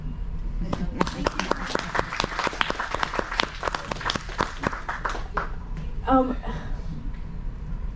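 Audience applause at a Speaker's Corner lecture on Shakespeare, with sharp individual claps standing out over a lighter clapping bed that fades near the end, where a voice briefly speaks.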